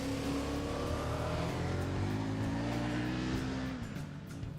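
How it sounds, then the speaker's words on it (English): A 2014 KTM 1190 Adventure R big-bore adventure motorcycle revs under open throttle, its engine note loud and sustained and sliding slightly in pitch before easing off at the end. "Open the throttle on this beast and you will unleash more power than any adventure bike"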